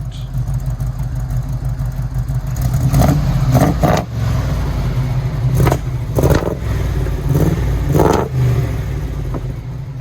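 An International Scout engine fitted with XLERATORS exhaust revs loudly and close, with repeated throttle blips rising over a rumbling idle.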